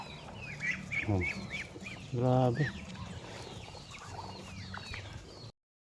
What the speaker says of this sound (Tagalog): grabe yan sobrang dami na natin mga kabatang na pato